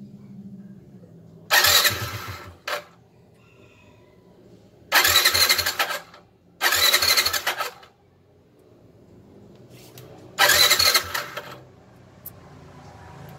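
A motorcycle fitted with a Daytona Ignimax spark plug is started after three days of rest: four loud, roughly one-second engine bursts with quiet gaps between them and no talking.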